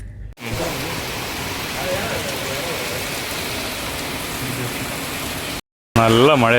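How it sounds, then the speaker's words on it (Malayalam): Heavy rain pouring down outdoors beside Ashtamudi Lake, a dense, steady hiss of drops filling the scene for several seconds before a brief cut, with a voice talking faintly under it. "നല്ല മഴയായി പോയിട്ടുണ്ട്"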